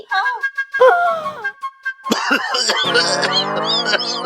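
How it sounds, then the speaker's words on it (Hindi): A few rough coughs break out near the middle, surrounded by sustained musical tones and a busy, loud backdrop. "फिर आई खांसी?"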